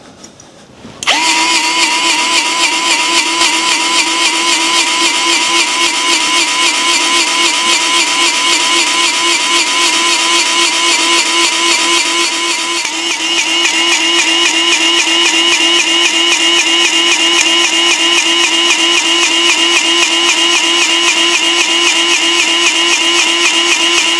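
A battery-powered Lube Shuttle grease gun whines steadily up close as it pumps grease into a zerk fitting on a zero-turn mower. The motor runs nonstop for over twenty seconds, with a slight shift in pitch about halfway through and no talking.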